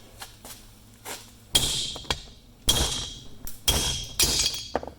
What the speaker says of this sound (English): I'm going to actually just try and see if I can kind of pound that out of there.